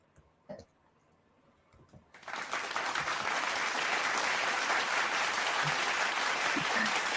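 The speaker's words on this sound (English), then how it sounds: "Wow. Applause." A few faint taps and a brief knock in near silence, then a sudden burst of sustained applause from a crowd that stays loud and even to the end.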